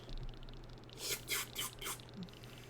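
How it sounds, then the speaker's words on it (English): A person drinks water, giving three or four soft, close gulping swallows in quick succession over a faint steady hum. "Drinking water."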